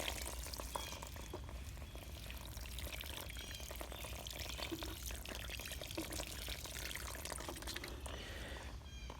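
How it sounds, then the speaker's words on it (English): Water trickling and splashing steadily from the leaking neck of a watering can while plants are fed fertilizer solution, a close, continuous wet pouring hiss with no talk. "My water can is leaking from the neck."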